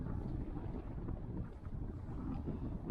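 Strong wind over 20 knots buffets the microphone on an inflatable fishing boat at sea, a steady loud low roar with gusting rumble and no talking.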